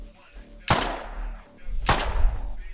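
Two sharp, loud gunshots in the video game Rust, about a second apart, each with a booming tail, over a low background hum.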